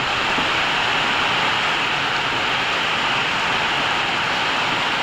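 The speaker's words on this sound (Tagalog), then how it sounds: "ganito na po kalakas yung hangin awa oh" Strong typhoon Ompong winds and heavy rain roar as a dense, unbroken wash of noise, loud and steady throughout with no voices.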